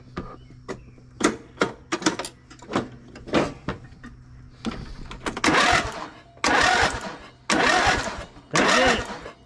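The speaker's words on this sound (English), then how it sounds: "I just want to see if it will crank over with that hard starting." Craftsman riding mower with a hard-starting problem: a few light clicks and knocks, then three or four loud, close bursts of the starter cranking the engine over, each roughly a second long with short pauses between.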